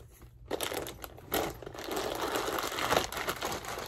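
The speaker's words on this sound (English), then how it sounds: "That little plastic bag I just took out." A small plastic bag, the original packaging for a purchased item, crinkles and rustles close by in a bedroom, with bursts of crumpling handling across the clip and no talk.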